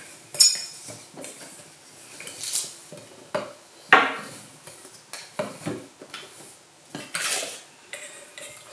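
A lightweight Naturehike camping cooking pot and its parts are handled, with scattered light metallic clinks, scrapes and rustles coming in irregular bursts, close by with no voice.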